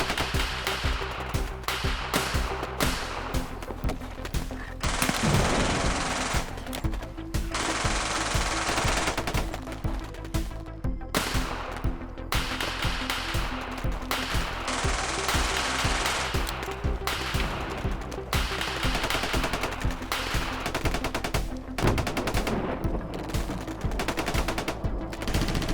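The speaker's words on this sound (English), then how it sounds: "We're under heavy fire!" Heavy machine gun fire rattles through an action movie battle scene against commando sharks, with loud sustained automatic bursts and overlapping shots nearly continuous throughout, briefly thinning between volleys.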